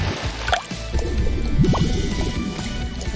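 A sneaker plunges into paint-covered water for hydro dipping, giving a wet squish and gurgling splash with dripping, loud and close, with no talking.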